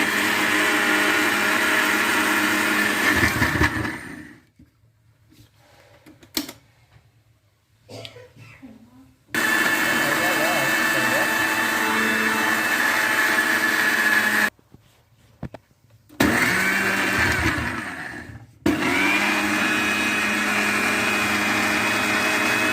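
Mixer grinder whirring through garlic powder ingredients, a loud, harsh motor roar in several long bursts, separated by quieter pauses with faint handling sounds.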